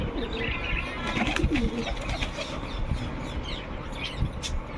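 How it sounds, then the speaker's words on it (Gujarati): Startled pigeons burst into flight with a flurry of wing flaps and a few soft calls, close by and fairly loud over steady outdoor background noise, with no talking. "ભડકે છે કબૂતર."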